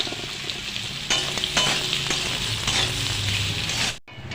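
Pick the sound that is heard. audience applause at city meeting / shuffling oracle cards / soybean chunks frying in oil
soybean chunks frying in oil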